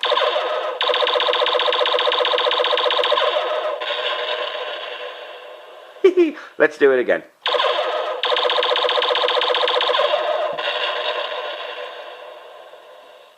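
A Castle Grayskull toy's electronic sound effect plays loudly, a buzzing, warbling tone broken midway by a short clattering scrape before resuming and fading out.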